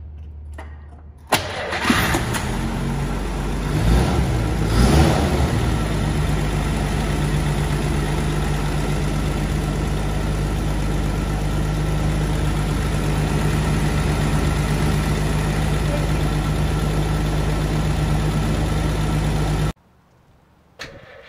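A 1936 Dodge D2 Coupe, restored nut and bolt, cranks with a brief whirring starter, catches on the first try and settles into a loud, steady, close idle for most of the clip before it cuts off abruptly.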